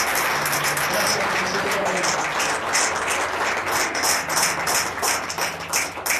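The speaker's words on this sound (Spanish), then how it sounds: "Den un aplauso a Dios." A church congregation applauds during a Spanish-language sermon, giving a steady, dense wash of clapping that holds for the whole stretch, with some voices mixed underneath.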